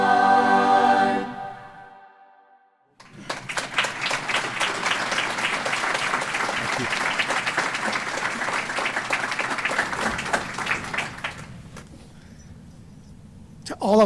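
An audience applauds the Tumwater High School singers at a Worker Memorial Day ceremony, a sustained, dense round of clapping that follows a brief fading sung note and then tapers off toward the end.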